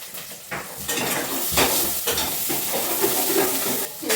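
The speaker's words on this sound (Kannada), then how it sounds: "ಇವಾಗ ಈರುಳ್ಳಿ ಎಲ್ಲ ಫ್ರೈ ಆಗಿದೆ." Onions frying in oil with chili powder in a pan, stirred steadily: continuous close sizzling with scraping spoon strokes against the metal, no voices.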